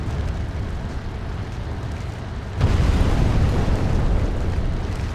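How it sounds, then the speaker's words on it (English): Explosion in the video game Splinter Cell Chaos Theory, set in a mission in Seoul: a sudden loud rumbling blast that breaks over a steady background and keeps roaring for several seconds, with no talking. "As soon as the explosion happens, we're going to run up to the wall."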